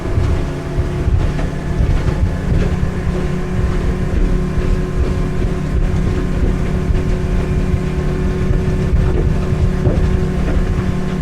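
A 2017 RH 170 boat with a reverse chine, powered by a Yamaha 50HP outboard, runs at speed, a loud steady engine drone with waves slapping and thumping against the underside of the hull.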